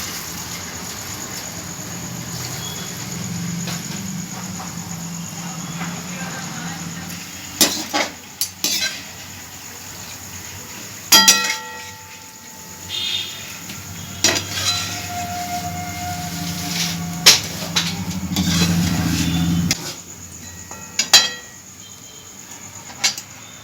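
Palm fruit fritters (taler bora) frying in oil: a low steady bubbling sizzle runs beneath repeated metallic clinks and scrapes of a utensil against the pan, several sharp knocks standing out, with no speech.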